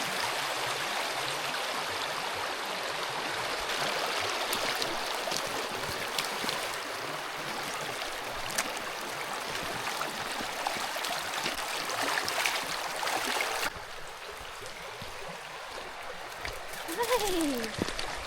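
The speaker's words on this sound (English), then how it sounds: "Made it to Smoothwater River." Smoothwater River on New Zealand's West Coast flowing in a steady rushing babble, continuous and moderately loud throughout, with brief splashes and a short quieter stretch near the end; talking is faintly mixed in.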